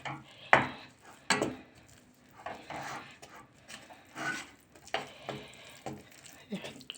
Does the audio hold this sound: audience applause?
no